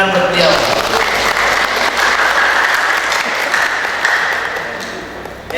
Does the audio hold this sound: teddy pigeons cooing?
no